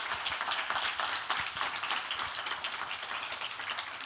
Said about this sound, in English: Another round of applause for all the authors that were presenting in that session.